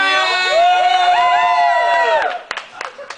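A crowd at a high heel race shouts and cheers with loud sustained voices, then breaks into scattered claps and short whoops as the noise drops off.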